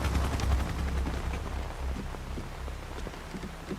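Steady rain in the video game Metal Gear Solid 3 pattering on a surface, a dense broadband hiss with scattered sharper drops, continuous and fairly loud throughout.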